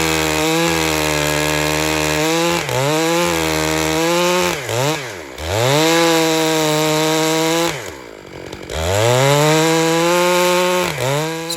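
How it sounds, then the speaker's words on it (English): Loud chainsaw ripping lengthwise along a big log to score it for milling, the engine droning steadily with pitch dips and surges as the bar bogs in and frees up, several brief throttle drops and no talking. "I'm just trying to score the log down its length for the first time"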